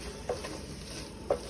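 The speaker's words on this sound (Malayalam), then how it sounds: "മസാലയ്ക്കകത്തൊന്ന് ഈ മുട്ടയിലോട്ട് ഈ മസാലയൊക്കെ ഒന്ന് പിടിക്കാൻ വേണ്ടിയിട്ടൊന്ന് നമുക്ക് ഒന്ന് ഇറക്കി കൊടുക്കാം" A spoon scrapes twice through masala and eggs in a pan, two soft strokes set against a steady low sizzle.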